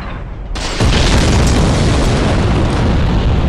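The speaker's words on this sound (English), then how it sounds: "Oh, that explosion is terrible" A loud, deep explosion bursts in the video game Dark Souls after a brief quieter moment, then rumbles on as a sustained, heavy roar filling the rest of the stretch.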